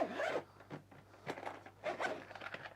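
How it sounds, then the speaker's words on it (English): A zipper is pulled closed around a Steam Deck carrying case in a few quick, close strokes with short pauses between them, quiet and alone. "Zip it up."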